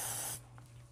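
An aerosol hairspray sprays onto a man's hair while it is styled for volume: one short, close hissing burst that stops abruptly and leaves quiet room tone.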